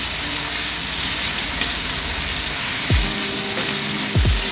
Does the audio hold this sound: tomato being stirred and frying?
yes